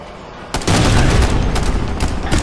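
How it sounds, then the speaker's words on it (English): A frag grenade blast and gunfire in Ghost Recon Future Soldier, with a sudden heavy burst followed by sustained loud rattling shots and booms, up close. "Throwing a frag!"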